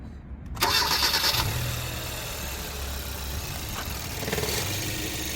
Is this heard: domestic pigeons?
no